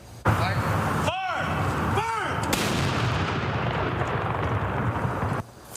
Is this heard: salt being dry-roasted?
no